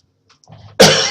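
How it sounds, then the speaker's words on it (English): A single sharp cough bursts out close to the microphone after a moment of near silence. "Sorry, a cough."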